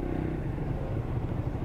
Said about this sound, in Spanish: aquí tenemos un usuario de moto